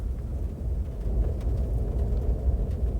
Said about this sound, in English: Can you hear the pitter patter of the rain? And the whistling of the wind?